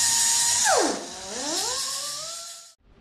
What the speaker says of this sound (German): der Rudi muss erstmal die Schweißnaht sauber machen